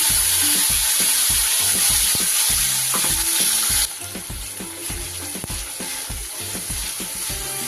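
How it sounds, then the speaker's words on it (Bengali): Spice paste of onion, ginger and garlic fries in a pan for katla fish malai curry, giving a loud continuous sizzle with rhythmic low scraping strokes of stirring throughout. "সুন্দর করে মশলাটা কষিয়ে নেব যতক্ষণ না কাঁচা গন্ধ যাচ্ছে"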